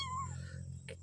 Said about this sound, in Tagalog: Yan pala yung pusa.